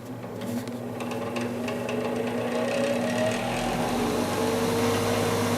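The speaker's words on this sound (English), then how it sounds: "Seems like that motor sounded funny, but it seems like it's still working" A small heater blower motor runs steadily inside a Ford F-150 cab, a continuous close whir with a slightly uneven, rattly edge under a low hum.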